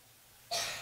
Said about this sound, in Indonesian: batuk tidak termasuk ngobrol ya